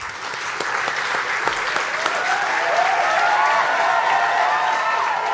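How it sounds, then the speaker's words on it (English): A big crowd at a charity gala dinner claps loudly and steadily for several seconds in a large hall, forming a dense, even wash of applause while a voice speaks faintly underneath. "Round of applause for all of you."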